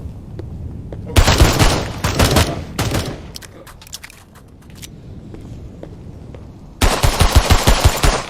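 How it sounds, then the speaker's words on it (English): Automatic gunfire in the VR shooter Contagion VR: Outbreak comes in loud rapid bursts, several volleys with a pause in between and a final burst at the end, with scattered single shots. "is he shooting at me? He sure was."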